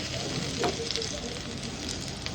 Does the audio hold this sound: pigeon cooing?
no